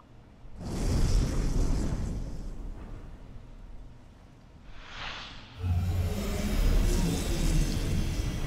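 Rocket carrying the first humans in the Surviving Mars video game, a loud roaring rumble that swells and fades, then a whooshing sweep and a renewed heavy thunderous roar, close and alone.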